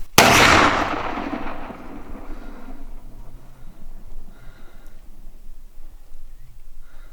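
A single loud Traditions rifle shot fired at a deer during a Texas hunt, close and sharp at the start, then a long fading rumble and quiet outdoor ambience.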